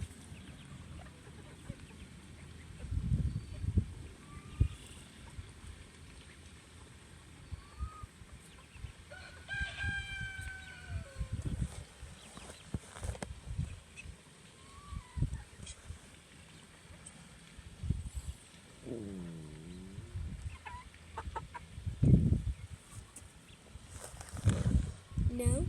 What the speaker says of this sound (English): First, the natures of chickens, chicks, ducks, and ducklings.